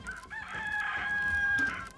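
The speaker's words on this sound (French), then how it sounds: "Moho, l'oiseau du matin, chante déjà" A rooster crows once, close and clear, in the Marquesas Islands at dawn, a single drawn-out cock-a-doodle-doo with harmonic overtones, trailing off near the end against quiet morning surroundings.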